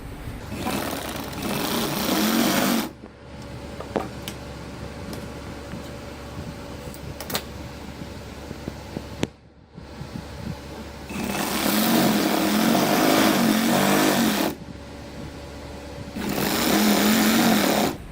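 A sewing machine stitches the hem of a gents poncha (trouser hem) in several loud, steady whirring bursts of a few seconds each, with quieter gaps of handling and rustling fabric between runs.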